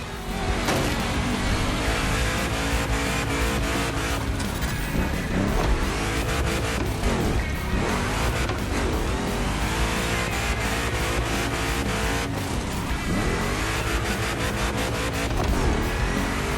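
Big block street car engine roaring and drifting in The Crew Motorfest racing game, loud and continuous with revving and tire squeal over game music throughout.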